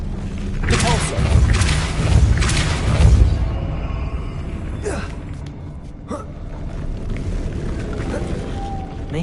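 A Depulso spell cast in the Hogwarts Legacy video game, heard as a gasp and a booming whoosh, with heavy low rumbling bursts over the first few seconds, then quieter ambience and scattered thumps.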